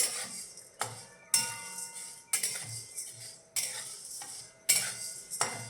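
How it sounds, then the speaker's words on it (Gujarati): Black pepper dry roasting in a pan while a utensil stirs and scrapes the metal, giving repeated sharp clinks and scraping strokes at a steady rhythm, close and moderately loud, with no talking. "હવે આપણે મરીને શેકી લઈએ"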